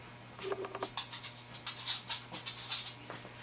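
A small dog scratches at a chair at home, giving a quick series of faint scrapes and taps with soft panting and light movement noise.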